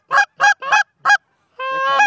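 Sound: flock of geese honking

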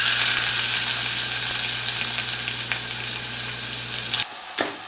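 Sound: whole spices and onion frying in hot oil

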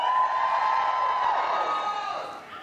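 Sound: crowd cheering

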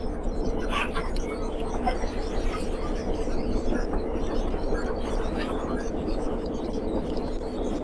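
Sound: stove draft in a barn

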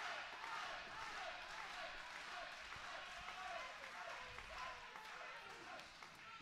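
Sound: wrestling crowd chanting and clapping

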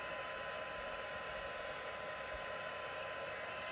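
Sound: heat tool blowing to melt embossing powder

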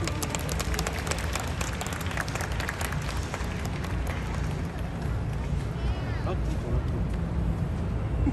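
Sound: audience applause welcoming performers

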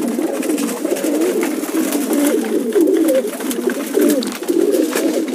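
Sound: pigeons cooing after eating grain

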